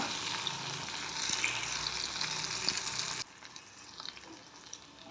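Tomatoes sautéing in a pan for a roasted garlic kulambu, a soft steady frying hiss up close that drops suddenly to a quieter sizzle partway through, with no voices.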